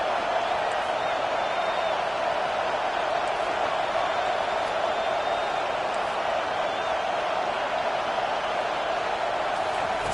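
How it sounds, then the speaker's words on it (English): A steady, distant roar from a home stadium crowd in a football video game, a constant wash of cheering noise with no breaks throughout. "how nice is it to have the home crowd going absolutely bananas?"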